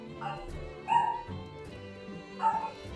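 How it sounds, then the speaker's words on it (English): Dogs bark in short bursts within a Final Fantasy XIV: Endwalker game scene, two louder yelps standing out over a steady musical background, with no talking. "Dogs are barking."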